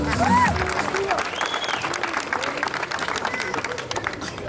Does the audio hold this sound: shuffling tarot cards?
no